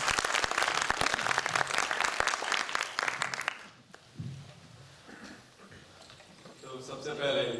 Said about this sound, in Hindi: तो धुआंधार तालियों से स्वागत आलोक